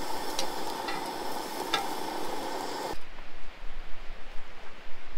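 A quesadilla sizzles and crackles in a cast iron pan for a few seconds, a steady close hiss that cuts off abruptly, leaving near silence.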